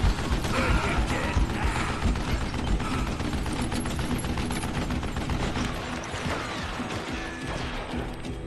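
Gun reloading in the Western shooter Call of Juarez: Gunslinger: dense mechanical clicks, ratcheting and metallic clatter over a loud, busy game mix of gunfire and crashes, steady throughout.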